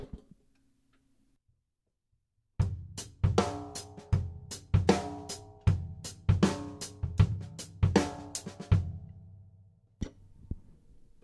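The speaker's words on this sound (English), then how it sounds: "my general groove with the bass drum, hi hat, and snare sounds like this" A drum kit groove of bass drum, hi-hat and snare kicks in after a couple of quiet seconds, a steady mid-tempo beat of sharp, close hits with ringing overtones, played alone.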